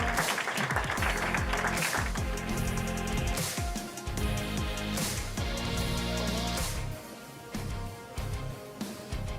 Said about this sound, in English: With another round of applause